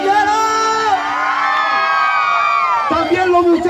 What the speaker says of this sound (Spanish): el grito de la chica soltera